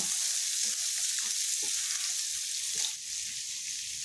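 Shrimp stir-frying in a hot pan for salt-and-chili shrimp give a steady, close bright sizzle, with soft irregular scraping and stirring knocks throughout and a slight drop in intensity near the end.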